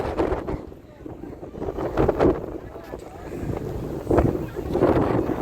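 Heavy gusty wind buffets the microphone in low rumbling bursts, rising and falling, at the Tribal Heritage Village on a hilltop in Wayanad, with a voice talking underneath.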